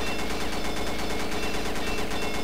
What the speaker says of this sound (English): But of course the M21E has the benefit of a burst fire mode, as shown here.